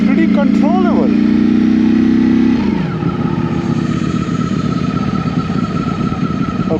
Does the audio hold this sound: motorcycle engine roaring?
yes